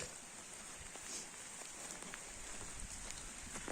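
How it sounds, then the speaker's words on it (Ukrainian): Steady rain patters on a nearby surface, a constant hiss dotted with faint individual drops and no voices. "Дощ падає"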